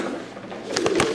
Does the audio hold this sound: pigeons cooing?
yes